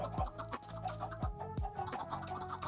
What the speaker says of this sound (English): The clucking will be done soon